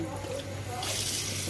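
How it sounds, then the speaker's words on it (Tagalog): Running water pours and splashes into a container for steaming egg with minced pork, swelling louder partway through, with a low steady hum beneath. "lalagyan ko yan siya ng tubig."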